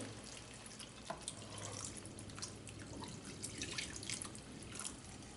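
Water poured into a pan of bottle-gourd kofta curry, a steady splashing trickle with dripping, close and fairly quiet throughout, no voices.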